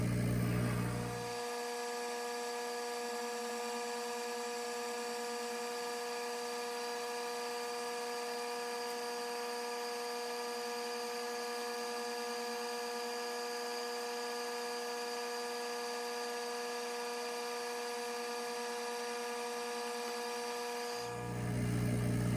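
A small air assist pump on a laser cutter runs while the laser cuts 3mm plywood, producing a steady droning hum that starts after a moment, holds evenly and then stops near the end.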